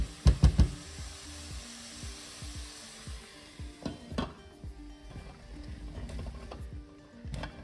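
Vegetables and a little water simmering in a pan for a skate fricassee, a soft steady bubbling hiss with a few sharp clinks of a utensil against the pan early on, close and fairly quiet.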